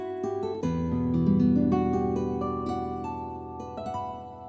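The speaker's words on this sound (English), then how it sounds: "So this is a Super Articulation Plus voice" A concert guitar voice with Super Articulation Plus on a Yamaha PSR-SX920 arranger keyboard plays a short phrase of plucked, ringing notes and chords, clear and close, with no talking.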